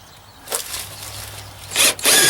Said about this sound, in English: I like to pre-drill my holes.